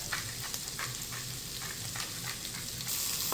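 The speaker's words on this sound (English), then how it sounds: "we're just going to saute those onions and garlic just a little bit with just a little bit of salt, pepper" Onions and garlic sautéing with salt and pepper in an 8-in-1 multicooker: a dense, continuous sizzle and crackle that holds steady throughout, close and fairly loud, with no talking.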